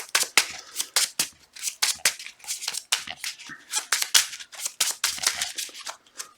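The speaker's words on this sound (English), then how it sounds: "shuffle our deck" A deck of game cards is shuffled by hand during a solo card-game session, giving a rapid run of crisp riffling and snapping bursts that repeat steadily for several seconds, close and loud with no talking.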